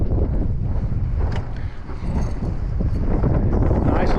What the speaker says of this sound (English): the wind is just hellacious right now